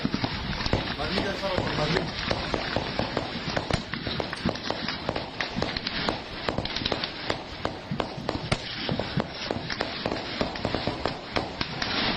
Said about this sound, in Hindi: जहां पे लगातार गोलीबारी की आवाज आप तक पहुंच रही है